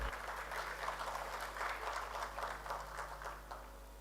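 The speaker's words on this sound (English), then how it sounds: "Let's have a huge round of applause, ladies and gentlemen, for Mr. Santosh Rai." A live audience at the AGNI ASPIRE 2024 event claps for Mr. Santosh Rai, a steady, fairly faint wash of many hands at a distance over a low constant hum, holding for about four seconds before tapering slightly.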